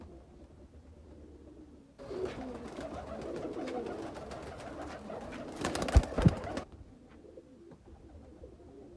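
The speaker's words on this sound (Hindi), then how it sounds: "ये जनाब एक और सियालकोटी कबूतर है" A Sialkoti breeder pigeon gives soft, low throaty coos close by, with a burst of nearby rustling and handling noise partway through.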